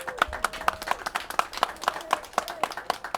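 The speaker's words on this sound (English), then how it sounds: "Let's give him a big round of applause." Applause for the mayor at a community welcome for the Island Avenue Mini Park, heard as a sparse, fairly quiet round of distinct individual claps in an uneven rhythm, with a voice speaking over it.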